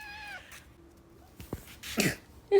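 A stray cat in a home garage gives a short, high meow at the start, followed by quiet gaps, a few soft clicks and rustles, and a brief sharp burst near the end. No one speaks.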